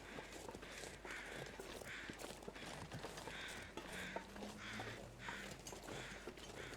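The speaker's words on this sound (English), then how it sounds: "But not the crows that we're hearing." Crows cawing in a row of repeated harsh calls inside the survival game The Long Dark, set in a snowy wilderness on the hardest difficulty, the calls fairly distant over a low constant ambient bed with faint crunching steps.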